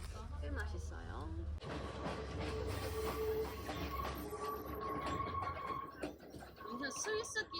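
A Sri Lankan train runs on rails, heard from on board as a loud rumbling rattle with clattering wheels and a high tonal squeal, while people talk over it.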